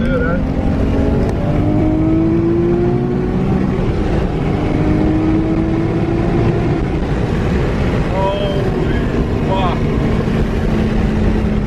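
A 400 kW all-wheel-drive Nissan Skyline R32 GTR V-spec accelerating hard through first and second gears, its loud engine note rising steadily over continuous road and wind roar as heard from inside the cabin.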